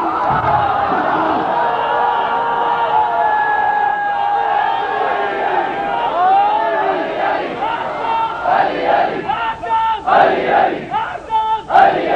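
A large crowd at a Muharram religious gathering roars and shouts together in unison, loud and sustained, breaking into rhythmic chanted slogan bursts toward the end.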